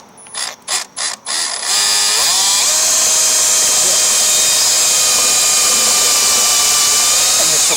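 A power drill bores a hole into a Snapper 824 snow blower: a few short bursts of the drill motor, then a loud, continuous high whine as it cuts, close up with no talk.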